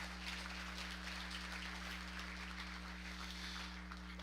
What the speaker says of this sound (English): Let's go ahead and give these exhibitors a round of applause.